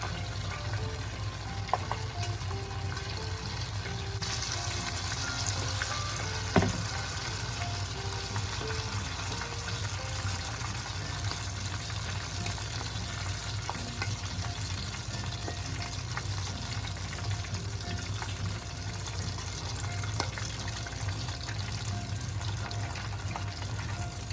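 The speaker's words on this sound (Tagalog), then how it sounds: "We will fry the shrimp for 2 to 3 minutes." Shrimp coated for tempura frying in hot oil, a dense steady bubbling hiss that holds for over twenty seconds with occasional small pops and clinks, close and moderately loud with no voices.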